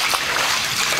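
Rainwater from a flooded backyard trickling and running into a house, a continuous close watery hiss and burble with no distinct pauses.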